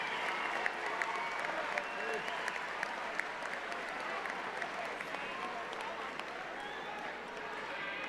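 Steady applause from a crowd at a high school graduation, dense clapping throughout at even loudness, with no one speaking over it.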